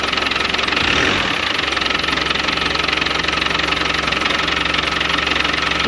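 An idling Land Rover Defender 110 Overlander with a rattly clutch settles into a steady, loud diesel clatter and hum, close by and unbroken, with a slight swell near the start and no talk.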